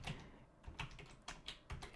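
Computer keyboard typing while entering a field name into an attribute table, showing quiet clusters of keystrokes in short bursts about every half second, alone with no talking.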